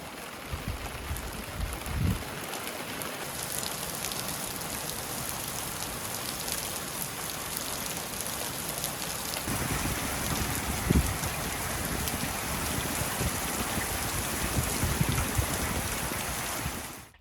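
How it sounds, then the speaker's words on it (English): Steady rain falls at the start of summer around a garden and greenhouse, a dense continuous hiss of drops on surfaces with occasional louder spatters, no voices present. "Look at all this rain."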